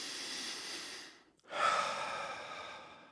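A person breathes slowly as part of a breathing exercise before a meal: a long, soft exhale, a brief pause, then a deeper airy breath that continues to the end, close and quiet.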